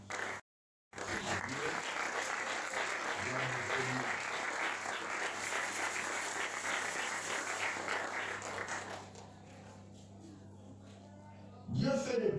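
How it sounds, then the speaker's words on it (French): Church congregation applauding and cheering during a pastor's sermon, sustained dense clapping for several seconds after a brief pause, then fading to a quieter murmur before a voice returns at the end. "si tu peux dire merci à Dieu en acclamant Dieu"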